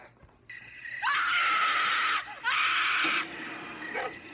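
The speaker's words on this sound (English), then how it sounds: "a distressed, manic, deranged kind of scream" A woman lets out long, shrill, distressed screams, two sustained wails broken by a short gasp, then a fainter whimpering cry, manic and deranged in tone.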